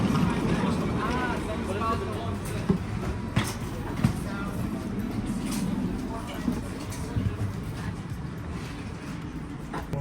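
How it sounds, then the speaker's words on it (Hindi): A Czech rail train pulls out of a station platform, giving a steady rumbling roll with faint clatter throughout, while voices talk over the low, continuous noise. "हमारी ट्रेन स्केड्यूल थी 11:43 के लिए और जस्ट अभी चली है"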